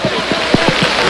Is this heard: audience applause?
no